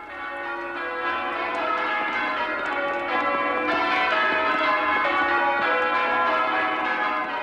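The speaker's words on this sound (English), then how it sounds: "Across the diocese, from tower to tower, the church bells exercise compelling power." Church bells peal continuously from a tower, a dense, steady wash of overlapping ringing tones with no gaps, loud and sustained throughout and heard alone without talk.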